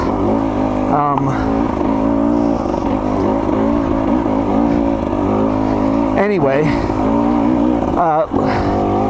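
A 2024 KTM 300 XC-W dirt bike engine drones steadily while riding hot valley trails, with rising revs at a few points and someone talking over the engine almost throughout.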